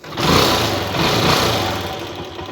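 A motorcycle engine with a freshly cleaned carburetor idles steadily at close range, a continuous low rumble with a slight rise in the middle, no voices.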